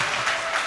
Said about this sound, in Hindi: तालियां बजा दे अगर ये सच्चा है।